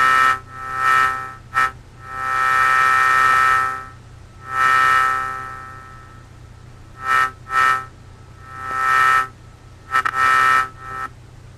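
A dubstep bass synth patch built in FL Studio plays in bursts, loud buzzy horn-like tones of varying length separated by short gaps, with a sustained low hum underneath.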